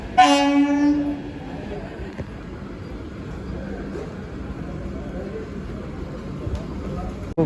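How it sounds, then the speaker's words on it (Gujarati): A Vande Bharat train's horn blares loudly at the start, then fades into the low rumble of the train rolling slowly alongside the platform, with people talking in the background. "ફાઇનલી ટ્રેન આવી ગઈ છે"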